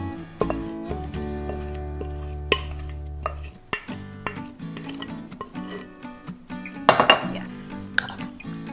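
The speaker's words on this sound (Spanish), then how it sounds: "Movemos bien y mezclamos bien la carne para que la carne absorba todo el sabor de estos ingredientes." Pork being stirred with adobo seasoning, cumin and oregano in a bowl for Peruvian adobo de cerdo: close clinking of a utensil against the bowl with irregular scraping knocks, and a brief spoken word.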